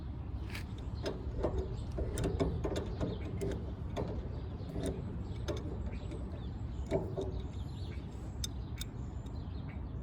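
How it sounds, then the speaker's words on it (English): Channel locks tighten a castle nut on a trailer wheel hub, making repeated close metallic clicks and ratcheting scrapes over a low outdoor rumble. There is no talking. "Now that I got that castle nut tightened down."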